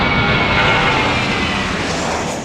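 Airliner passing low overhead by Congonhas airport in São Paulo, a loud, steady broadband jet roar that fills the whole moment and tapers slightly at the end, with no voices.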